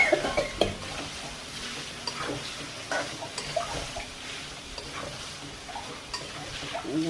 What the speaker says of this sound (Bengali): একটু পানি দিয়ে কষাই নেবো সুন্দর করে